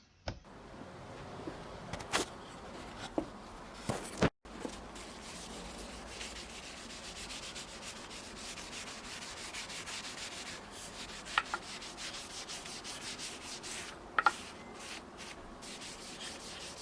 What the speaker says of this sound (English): Wax or varnish all the parts.